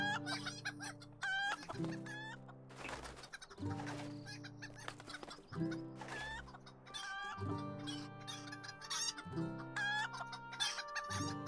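Video game chickens cluck steadily and close for the whole stretch, with busy overlapping calls, a faint crow or two, and no talk.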